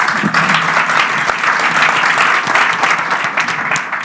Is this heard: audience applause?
yes